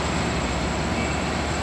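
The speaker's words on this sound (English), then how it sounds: "Here's the train right down here." A train sits at a railway station, giving off a steady, continuous rumble with a constant hiss and a faint high whine throughout, and no voices.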